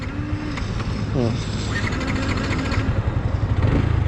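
A Yamaha Exciter 155 ABS motorcycle engine nearly out of fuel running and revving, a rough low rumble with rising rev tones, while someone talks in Thai over it.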